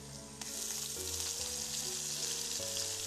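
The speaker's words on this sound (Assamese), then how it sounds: "এতিয়া এয়া আদা নহৰু দিম" Ginger garlic paste hits frying onions in a pan with a loud, steady sizzle that holds throughout, while music plays underneath.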